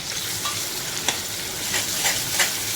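Chopped small onion and tomato with a pinch of asafoetida sautéing over a high flame, a loud continuous sizzle with regular stirring scrapes every second or so, close up and without speech.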